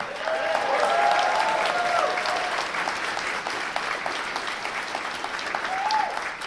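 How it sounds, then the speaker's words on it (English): Audience applause for the winner at a convention's closing ceremony, sustained clapping from a large crowd filling the room, with brief whistles or cheers over it. "Round of applause for them."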